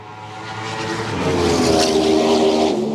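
A Norton V4SV motorcycle's V4 engine runs loud and close, its tone climbing steadily as the revs rise, giving a smooth, harmonic-rich roar.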